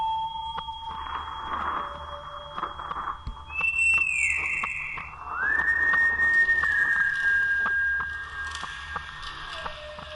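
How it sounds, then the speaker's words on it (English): Whistling heard as steady tonal lines that glide up and down, with a few louder sustained notes, rising over faint spooky background music and clicks, no voices. "That's really annoying for my recording. It sounds like whistling."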